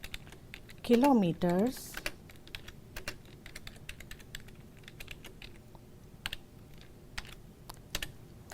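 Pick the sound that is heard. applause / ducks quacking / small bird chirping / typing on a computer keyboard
typing on a computer keyboard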